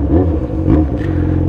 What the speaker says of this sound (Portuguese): Curte moto barulhenta?